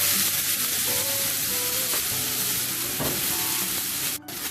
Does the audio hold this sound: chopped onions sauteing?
yes